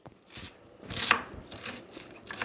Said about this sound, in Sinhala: ලුණු ගෙඩි භාගයක් විතර කප